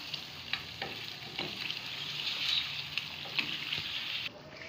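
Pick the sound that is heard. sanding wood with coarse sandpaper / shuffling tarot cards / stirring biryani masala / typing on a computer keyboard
stirring biryani masala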